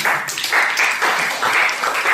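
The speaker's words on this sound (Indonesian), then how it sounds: "Oke, tepuk tangan buat kita semua." A high school class claps together in a rhythmic pattern, with bursts of group clapping in an even, repeating beat, with no one talking.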